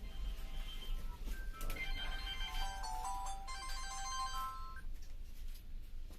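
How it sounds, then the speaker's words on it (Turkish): Phone ringtone playing a repeated melodic ring through several cycles, moderately loud over a low background hum during a live stream while a bicycle is being refurbished. "bu arada canlı yayında telefon çalıyor."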